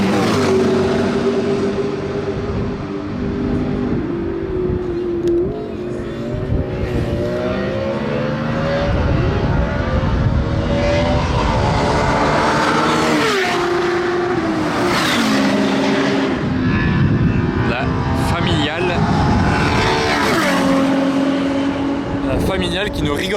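Sports cars such as a McLaren P1, Senna and Ferrari F8 lap Circuit Paul Ricard flat out, a continuous loud roar of revving engines rising and shifting pitch as cars pass, with tire noise throughout.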